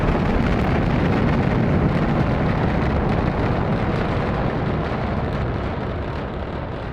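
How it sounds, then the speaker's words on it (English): A rocket launching in the Stationeers space-survival game, a dense, continuous roaring rumble that stays loud and steady throughout, only easing slightly toward the end, with no talking over it. "The rocket is flying away."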